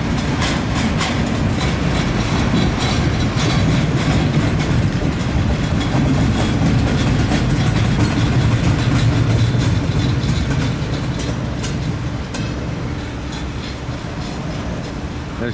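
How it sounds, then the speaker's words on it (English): A Norfolk Southern intermodal freight train rumbles past close by, with steady clickety-clack of wheels over rail joints and a heavy continuous roar that eases slightly toward the end. "Trains seem to be moving quite slow through this section today"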